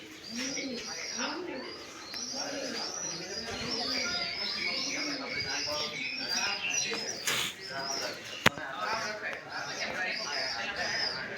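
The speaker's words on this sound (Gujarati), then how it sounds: "અહીં કબૂતર બેઠા છે." Pigeons coo in soft, repeated throaty rolls at Girnar in Junagadh, several birds close by, with other chirps and people talking in the background.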